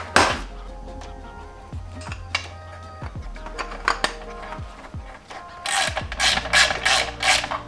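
Small bolt threaded with blue Loctite into a 1JZ-to-RX8 transmission adapter, driven by a hand ratchet: repeated close metallic clicks and clanks, finishing with a quick burst of rapid ratcheting.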